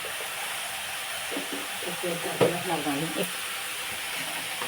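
Cabbage coconut fry is stirred in a hot pan, with a steady sizzling hiss under soft, irregular scraping of a spoon, close and continuous.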